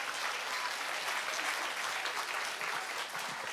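A concert audience at a political party event in Busan gives a steady wash of applause, dense and even for a few seconds with no talking over it.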